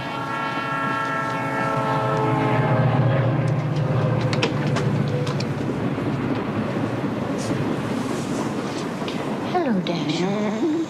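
A train horn sounds in long sustained tones, followed by steady rumbling rail noise of a moving train, fairly loud throughout with voices talking over it.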